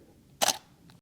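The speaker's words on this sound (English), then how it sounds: "Let's take a picture of Tigger." A camera shutter fires once at an aperture of f1.8 while a picture is taken, giving a single crisp, close mechanical click with a faint second click just after it in a quiet room.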